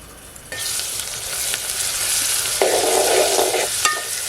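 A wild forest vegetable, pevla, stir-fries with onion and garlic in a pan, a loud close sizzle that flares up after half a second, with stirring scrapes and a brighter hissing burst midway; no voices.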